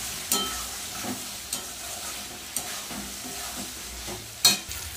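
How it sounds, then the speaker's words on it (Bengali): Potatoes and prawns being sautéed with spices and grated ginger in a pan, steady soft sizzling with occasional sharp scrapes and stirs of a spoon, no talking. "আলু আর চিংড়ি মাছটা মশলার সাথে একেবারে কষিয়ে নেব।"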